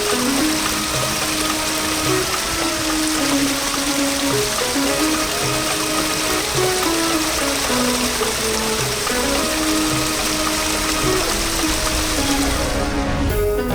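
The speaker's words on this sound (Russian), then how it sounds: "В центре парка находится искусственный водопад." An artificial waterfall in a city park in Trabzon pours steadily and loudly with a constant splashing rush, close by, and faint background music runs beneath it.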